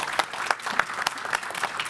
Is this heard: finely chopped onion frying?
no